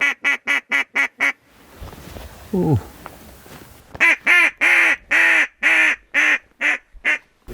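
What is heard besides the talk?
ducks quacking in fog during duck hunt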